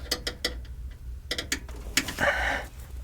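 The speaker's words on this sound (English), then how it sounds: "The next thing is to undo the screws, which the hex drivers can be helpful." Phillips head screws being undone with a hex driver while installing a computer video card, giving several close, light mechanical clicks and ratcheting ticks in short bursts.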